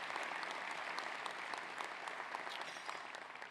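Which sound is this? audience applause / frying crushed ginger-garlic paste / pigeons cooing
audience applause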